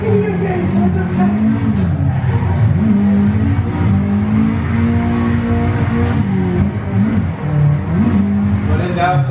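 An engine in a racing video game drifts with clutch kicks, revving loudly and continuously with rising and falling pitch sweeps over nine seconds, close and steady with no pauses.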